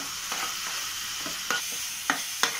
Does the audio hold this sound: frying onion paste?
yes